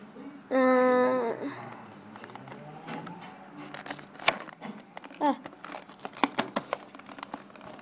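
Toy figure packaging being torn and pulled open during an unboxing, a series of sharp crinkling and ripping bursts of plastic and cardboard, close and fairly quiet, interleaved with excited children's voices and a squeal.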